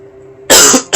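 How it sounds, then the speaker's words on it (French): A single sharp cough from someone sick with a cold, loud and close, following a moment of quiet hum, with the start of another cough at the very end. "Et je tousse, c'est juste horrible."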